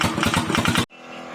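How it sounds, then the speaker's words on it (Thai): A farm trailer vehicle with an all-steel body runs its engine close by in a loud, rapid rhythmic chug of even pulses, then cuts abruptly to a faint residual hum. "เดี๋ยวฟังเสียงคันนี้หน่อยครับ ทำไมเสียง ทำไมเสียงดังแบบนี้อ่ะ"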